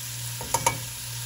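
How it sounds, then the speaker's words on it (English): Spiced meat stirred in a pan for Lebanese green beans with steak, with a steady sizzle underneath and two quick scraping knocks of the spoon against the pan, close up. "And then I'm going to give these a good stir."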